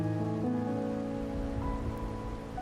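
Rain falls steadily in a video game scene, a dense hiss of drops on surfaces layered over sustained musical tones from the game, constant and moderately loud.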